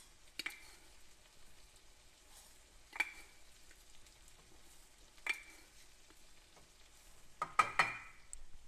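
A cup of dry rice going into a hot pan and being stirred, heard as a faint sizzle broken by a few sharp scraping strokes and a clattering burst near the end, with no talking.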